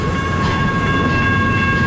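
A long CN intermodal double-stack freight train passing close by in Richmond, Michigan, producing a loud, continuous rolling rumble with a steady metallic whine and no break.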